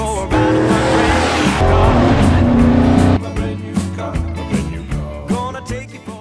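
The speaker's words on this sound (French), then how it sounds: "Il y a aussi des voitures qui vont très vite." Euro NASCAR race cars driving very fast on a track at Fontaine-le-Comte. Loud, close engine roar with tyre squeal comes first, then several fast pass-bys whine past in quick succession.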